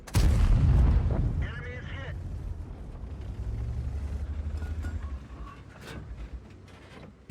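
A loud, deep boom from an AMX 30B tank gun in World of Tanks opens the scene, followed by a long rumbling tail of engine and battle noise, with a few fainter thuds later.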